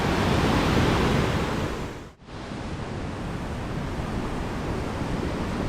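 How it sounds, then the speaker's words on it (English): Fresh mountain water pours down in a rainforest stream in Veracruz, Mexico, making a close, loud and steady rushing roar. The roar briefly drops out for a moment, then resumes evenly. "Look at the water just pouring from there."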